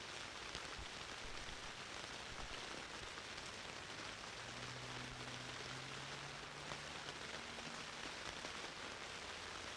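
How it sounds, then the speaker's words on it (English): Steady rain falls outdoors, a dense, even hiss of drops pattering on surfaces without letup, with a faint low hum drifting briefly underneath. "Getting lost in the sounds of the rain"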